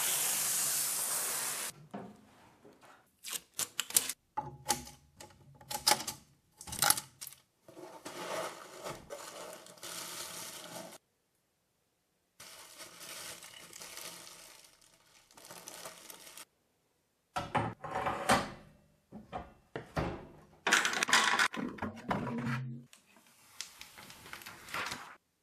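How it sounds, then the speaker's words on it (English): Foam packing blocks are pulled out of a HeyGear Reflex 2 resin printer box in bursts of squeaky rubbing, crinkling and scraping, separated by short quiet gaps. "So let's take these foams out."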